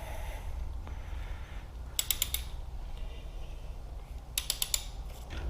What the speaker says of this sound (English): Tighten down the cam chain tensioner nut.